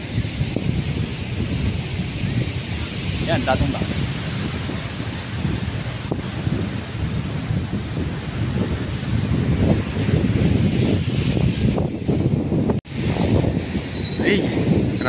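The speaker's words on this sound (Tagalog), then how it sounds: "Ang lakas na ng hangin" Strong wind buffets the microphone continuously at a rainy-season fishing spot, a steady roaring rush with a brief voice speaking over it.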